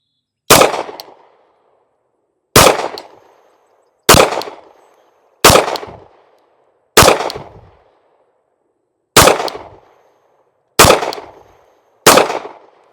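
Eight sharp, loud pistol shots from a handgun fitted with a Trijicon RMR HD sight, fired singly at an unhurried, slightly uneven pace, each crack trailing off into a short outdoor echo.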